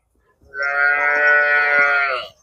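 A single long, loud cow moo rising and holding steady for nearly two seconds, close by, with no other sounds around it.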